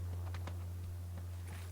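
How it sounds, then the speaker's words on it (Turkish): Faint, soft footsteps in PUBG New State on the Erangel map, a handful of light irregular steps over a steady low hum, distant and quiet with no voices. "Ayak sesi geliyor."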